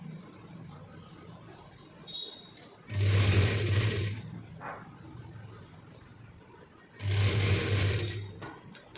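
A sewing machine stitches a folded fabric strip onto a sleeve cuff in two loud bursts of rapid whirring and needle chatter, close up, separated by quieter handling noise and a brief pause.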